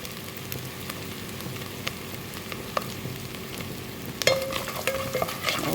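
Ginger and garlic stir-frying in a pan for a Kuttanad-style duck curry, a steady close sizzle with scraping stirs and sharp crackles that grow louder toward the end, no voices.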